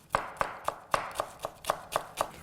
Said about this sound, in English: Now we're going to shred a little bit of basil